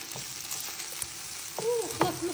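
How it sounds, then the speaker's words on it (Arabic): Shrimp and a pat of butter frying in a pan with calamari, a low, steady sizzle with a few brief stirring scrapes and faint clinks near the end. "دابا غادي نزيد عليه الكروفيت، غادي نزيد هاد الكلاص ديال الزبده"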